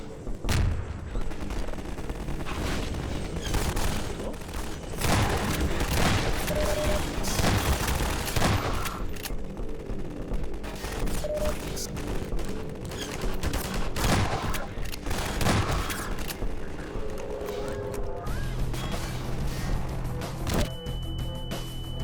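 Repeated heavy blasts and crackling fire from a mortar on a bank roof in Half-Life 2 keep up a dense, loud barrage throughout, with booming impacts and scattered shots overlapping.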